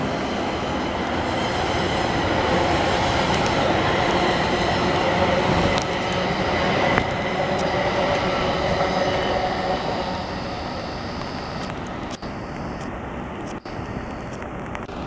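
A Montreal commuter train passes close by. A steady rolling rumble of wheels and cars runs throughout, with brief rail squeals and clanks near the end and no voices.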